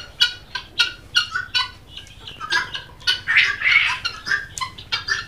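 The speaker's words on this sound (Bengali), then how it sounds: "অনেক সুন্দর তিথি মুরগি।" Tithi chickens on a farm give repeated sharp squawks and calls in quick succession, fairly close and clear, with several birds overlapping and no talking.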